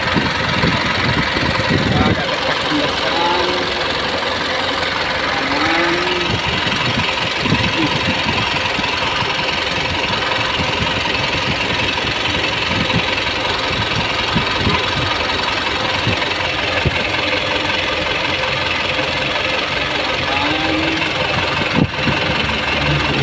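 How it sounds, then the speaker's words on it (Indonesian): A 2023 Mitsubishi Canter FE 84 SHDX diesel truck with a steel central bed idles steadily throughout, a continuous low engine rumble with a knocking texture. "Ini mesinnya."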